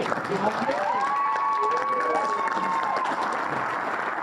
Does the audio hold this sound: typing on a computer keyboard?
no